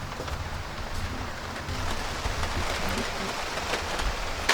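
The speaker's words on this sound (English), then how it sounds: "It is raining like a mother effer." Steady, dense rain pours down in a continuous hiss with a low rumble beneath it, loud and close, without letup.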